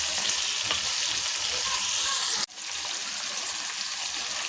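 Palm weevil larvae simmering in a pan give a dense, steady hiss and bubbling sizzle up close, briefly cut by a sharp break midway before continuing evenly.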